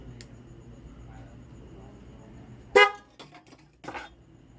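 A single short, sharp Yamaha Sniper 150 motorcycle horn beep sounds close by over a quiet background, followed by a couple of faint clicks and a soft thud.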